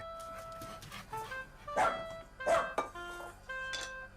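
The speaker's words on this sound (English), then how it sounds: "He feeds Freddie, his dog." A pet dog gives several short, separate yips and barks in a quiet indoor space, close and moderately loud, with pauses and softer whimper-like tones in between.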